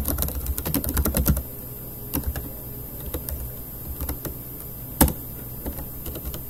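Code being typed on a computer keyboard, a quick flurry of clicking keys at first, then sparser single taps and one sharp louder keystroke, close and clear with no speech.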